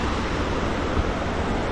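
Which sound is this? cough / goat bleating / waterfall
waterfall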